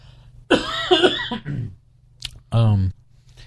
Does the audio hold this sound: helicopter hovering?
no